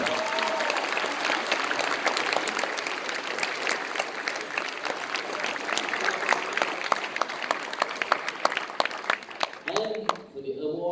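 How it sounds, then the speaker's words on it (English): Audience applause at a school drama awards ceremony in Sri Lanka greets Jerome De Silva, a thick, continuous wash of clapping with crowd noise that swells and then drops off abruptly near the end. "A thunderous round of applause, ladies and gentlemen."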